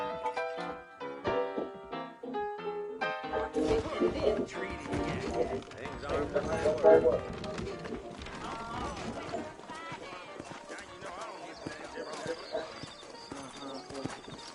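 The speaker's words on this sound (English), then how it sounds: "I got the horses saddled up and ready out front." Saddled horses trot in the Western video game Red Dead Redemption, with a rhythmic clip-clop of hooves over game music, a possible whinny and voices in the background.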